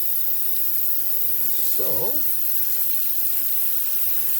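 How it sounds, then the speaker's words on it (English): Hot water runs from a tap into a container in a steady, loud, hissing rush, with a single short spoken word partway through. "this, I am going to fill up with water"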